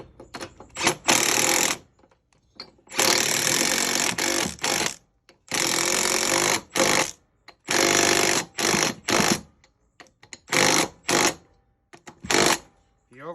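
Repeated bursts of power-tool whirring, likely an impact driver, run on Scag mower spindle bolts with a 7/16 socket. The bursts are loud and close, broken by short pauses over about thirteen seconds, with no talk.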